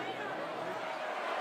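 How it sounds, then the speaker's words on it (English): Basketball arena crowd at a Boston Celtics versus Denver Nuggets NBA game reacting around a free throw, a steady dense roar of cheering and babble held at an even level throughout. "Here you'll hear the crowd response."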